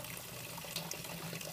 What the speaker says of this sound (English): So as you can see, I'm filling up my boil pot